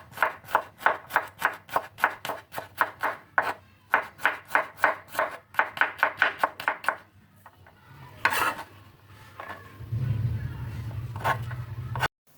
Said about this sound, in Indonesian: 2 siung bawang putih diiris-iris tipis juga.